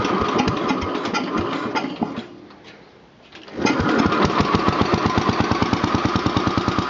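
A Power King garden tractor engine runs roughly, dips briefly as it cranks and catches, then settles into a loud, close, steady idle with a rapid, even chugging beat.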